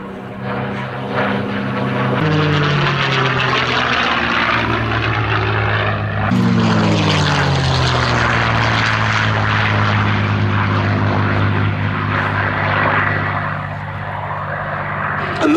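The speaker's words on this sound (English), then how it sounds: "that was the personal aircraft of Captain Donald Strait when he was the commanding officer of the 361st Fighter Group" A North American P-51D Mustang propeller fighter roars past close and loud, its engine drone holding steady for several seconds before the pitch drops sharply as it passes, then fades slightly away.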